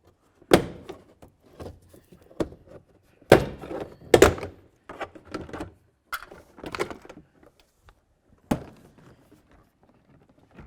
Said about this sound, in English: try to separate the door panel from the door